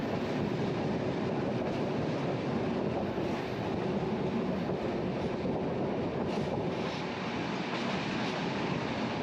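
Constant rumbling roar of a train from Sofia, Bulgaria to Bucharest, Romania rolling along the rails, heard from inside, dense and steady throughout with no speech.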